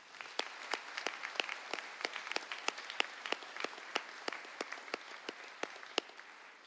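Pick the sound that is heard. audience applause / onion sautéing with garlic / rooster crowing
audience applause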